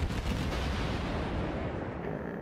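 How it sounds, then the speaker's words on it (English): Main guns of a Japanese Atago heavy cruiser firing in World of Warships, a dense, continuous roar of naval gunfire and heavy booms filling the whole stretch, loud and close with no speech. "We're going to fire like that because he is accelerating."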